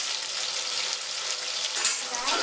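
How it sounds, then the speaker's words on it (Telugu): Onions frying in oil for an Andhra-style vegetable biryani give a steady, close bright sizzle with faint crackles, no voices. "ఇవన్నీ నూనెలో బాగా వేగనివ్వాలి."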